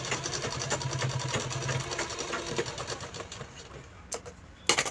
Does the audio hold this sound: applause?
no